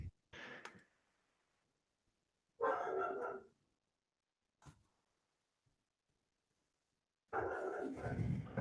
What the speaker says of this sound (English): Got a dog in my background.